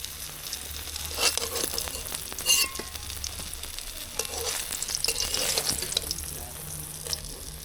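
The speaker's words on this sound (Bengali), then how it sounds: "মা এবার বাকি বেগুনগুলো ভেজে দিচ্ছে।" Eggplant slices fry in hot oil with a steady low sizzle, broken by a few sharper crackles and clinks of stirring; close and moderately loud, with no voices.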